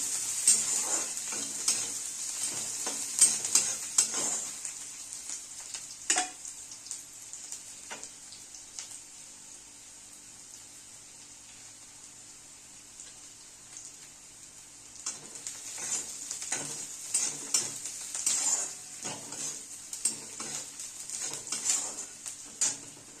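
Onions fry in a pan with a soft continuous sizzle while a spoon stirs and scrapes against the metal in irregular bursts, close by with no talking, the sizzle dipping quieter midway before the stirring picks up again.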